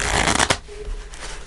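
Tarot cards being shuffled close up, producing a dense riffling flutter that ends in a sharp snap before softer handling sounds.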